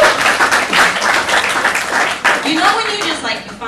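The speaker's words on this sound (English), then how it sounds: "You want to clap it up for that?" An audience at a Chicago underground comedy club claps, producing a dense, steady wash of applause for several seconds that fades slightly toward the end, with a few voices mixed in.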